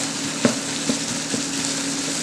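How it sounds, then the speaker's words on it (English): Tomato paste sizzles in a pot as it cooks down, giving a steady close frying hiss with three soft knocks of a spoon stirring it at even intervals. "I like to add the tomato paste now, mix it in, and just cook that down a little bit"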